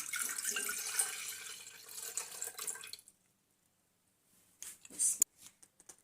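A sugar, cream and milk mixture pours steadily into a jug for about three seconds, then stops into near silence, followed by a few short clinks and splashes close by.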